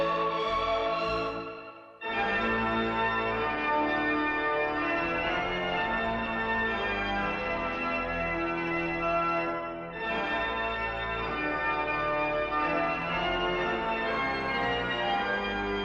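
Diegetic pocket watch chimes ring out over a full orchestral film score in a Sergio Leone western, the bell-like tones woven into a loud, continuous, dense orchestral wash with a brief dip midway.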